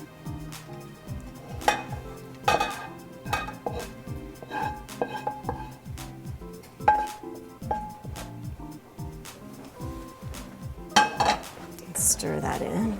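Sautéed mushrooms and herbs get stirred into thickening béchamel in a pan: a quiet series of metal utensil scrapes, taps and clinks against the pan, with a soft sizzle underneath.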